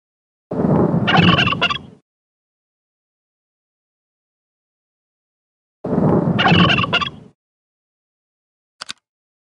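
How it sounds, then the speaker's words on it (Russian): A turkey gobbles twice in loud, rattling bursts a few seconds apart, followed by a brief faint click; otherwise silent. "Индюк Игорь испугался."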